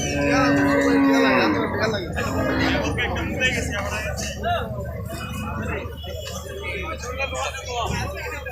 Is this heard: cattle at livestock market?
yes